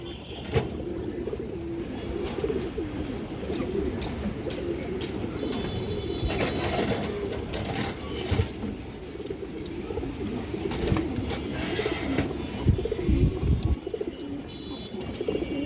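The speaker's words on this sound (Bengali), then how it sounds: "বিগ সাইজের একটা বাঘা মাদি কবুতর, অনেক বড় সাইজ কবুতরটা" A large Bagha female pigeon coos in repeated low throaty phrases against a steady background hum, with scattered short clatters and rustles breaking in now and then.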